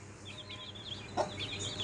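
Desi local-breed chicken chicks peeping under a mosquito net, a steady stream of faint, high, overlapping chirps with one slightly louder call near the middle.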